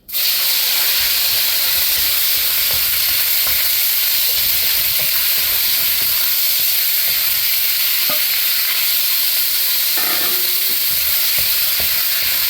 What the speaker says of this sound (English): So you want to cook it hot and cook it fast